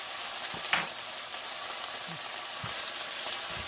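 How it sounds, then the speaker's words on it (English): Okra sautéing with a little seasoning in a pan over medium heat, a steady soft sizzle with a brief louder clink or stir near the start and no talking. "Still sauteing this over here on a medium heat."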